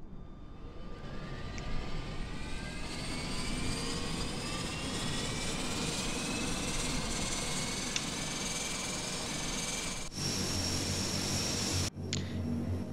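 Airbus A400M in Microsoft Flight Simulator with its four engines spooling up one after another, a loud, steady turbine roar with rising whine that swells and shifts in tone, sharp changes near the end as further engines catch.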